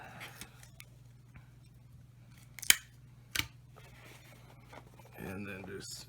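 Packing tape pulled and torn from a roll while building a cheap deck box, a couple of sharp close rips followed by a longer rasping pull, with faint room noise between.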